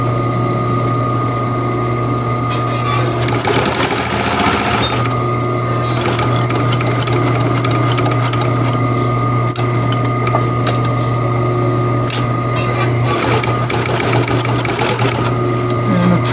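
A sewing machine stitches a fabric face mask cut from a T-shirt, running in a steady, loud mechanical whir with brief bursts and pauses as the seam is sewn and back-stitched.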